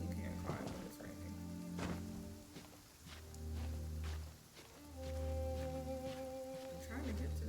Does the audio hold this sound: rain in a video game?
yes